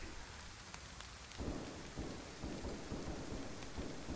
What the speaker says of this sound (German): Im strömenden Regen.